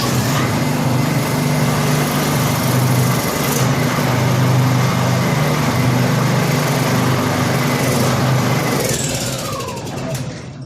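A Honda EU2000i portable inverter generator engine runs steadily and loudly throughout after being pull-started, with a constant buzzing drone that eases off slightly near the end.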